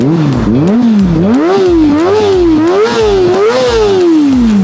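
A Kawasaki ZX-25R four-cylinder 250cc motorcycle engine revving hard and close, its high-pitched wail climbing and falling in quick repeated blips over a steady idle rumble.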